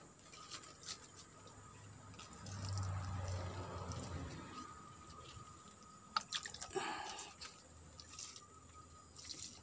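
Soft, irregular drips and patters of water falling onto aglaonema leaves and soil after watering, quiet and close, with a faint steady hum behind.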